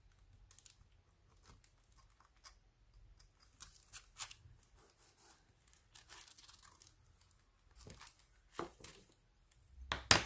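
Scissors cut paper for a junk-mail collage art journal page: quiet, scattered snips and crinkles close by, in irregular bursts against near silence.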